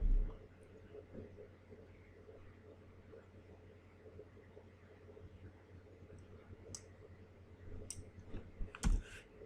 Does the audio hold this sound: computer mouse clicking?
yes